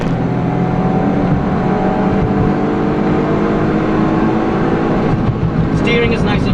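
Honda S660 sports car accelerating through first and second gear, its engine a steady loud drone from inside the cabin for the whole stretch, with no break in the noise.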